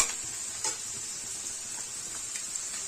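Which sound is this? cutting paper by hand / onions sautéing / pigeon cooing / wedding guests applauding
onions sautéing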